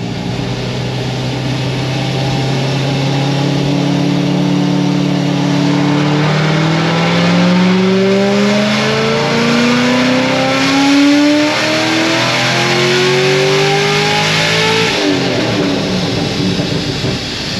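A boosted car engine revving on a dyno, a loud sustained roar climbing steadily in pitch as it winds up to about 6,700 rpm, then easing off.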